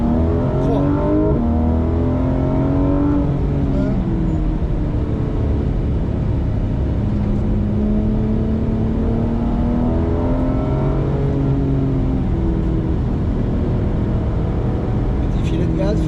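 A car accelerates hard around a racing circuit during a driving coaching session, its engine note rising in repeated sweeping harmonics, loud and close throughout, with an instructor's voice talking over it.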